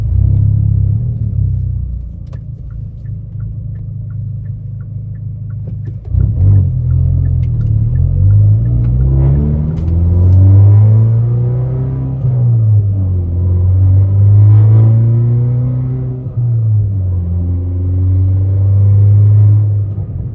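A Hyundai Veloster N with an aftermarket Uniclutch Sport clutch drives on the street. Its engine rumbles loudly from inside the car, with pitch rising under acceleration and dropping at each smooth gear shift.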